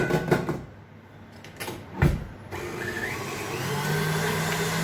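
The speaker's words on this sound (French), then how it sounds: "Voilà, vous mettez au batteur." An electric mixer beats cold mascarpone, starting with a few knocks and clatters before the motor settles into a steady, close whirring drone that continues to the end.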